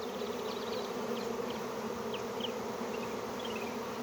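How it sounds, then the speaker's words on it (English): Honey bees buzz steadily at a hive entrance during a swarm capture, a couple fanning their wings while others circle; a continuous dense hum with faint higher wingbeat streaks passing through, no talking. "there's a couple bees fanning in the entrance."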